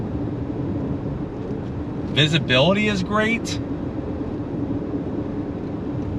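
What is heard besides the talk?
road noise inside a 2025 Toyota Crown hybrid while driving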